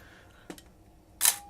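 Nikon FE film camera firing its steel metal shutter: two distinct mechanical clicks, a soft one followed by a louder, sharper snap about three quarters of a second later, close and alone in a quiet room.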